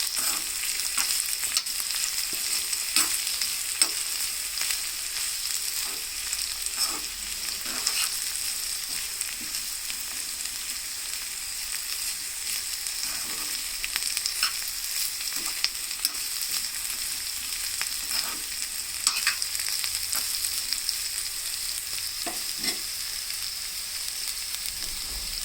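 Bitter gourd pieces fry in a pan with a constant soft sizzle, while a spatula stirs and scrapes with irregular clicks and taps; close, moderate level, no voices.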